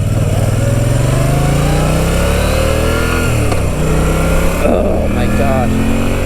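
A Moto Guzzi V9 Bobber on its stock exhaust pulls steadily under load, a loud, close engine drone rising and dropping in pitch through gear changes.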